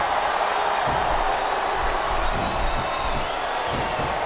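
Steady roar of a wrestling arena crowd in the Smackdown vs RAW 2007 video game, a dense continuous wash of cheering with occasional louder swells and thumps, loud and unbroken throughout.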